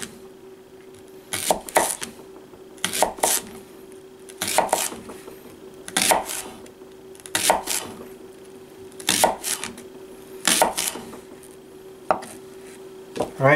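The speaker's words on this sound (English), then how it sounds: "I can just literally push down from here, push down, and slice it" Kershaw Brawler knife slicing through food for a shabu shabu hotpot, pushed straight down onto a cutting board in a steady series of about eight crisp cuts with short pauses between, close and clear with no talking.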